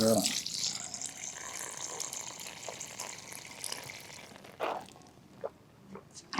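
Water pours steadily from a tap into a tank at a busy outdoor event site in Madurai, a broad continuous hiss that fades out near the end, with muffled voices and a few knocks in the background.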